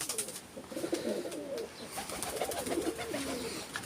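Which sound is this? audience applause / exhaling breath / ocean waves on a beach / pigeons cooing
pigeons cooing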